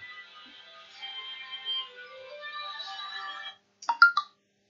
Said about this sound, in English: That's my phone, just bear with me a sec.